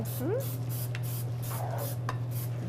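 Short bursts of non-stick cooking spray hissing into a dish at a pickle festival cooking contest, several brief sprays with a steady electrical hum and a voice speaking underneath.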